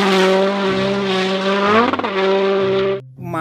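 A toy race car plays a loud electronic racing engine effect with a high revving whine that dips and climbs again, ending in a short skid-like squeal before cutting off, close up and without talk.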